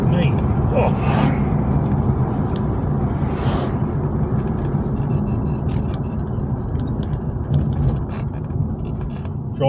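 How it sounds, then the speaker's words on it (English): A car drives through rural Victoria, Australia, its steady engine and road rumble continuous and close, with speech heard over it. "Driving through country Victoria, Australia at the moment."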